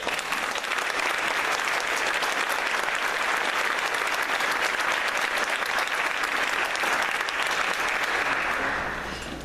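Sustained applause from a debate audience welcoming the candidates at the 2014 Georgia Republican Senate debate, a dense, steady roar of clapping lasting throughout and tapering slightly at the end, with no talk over it.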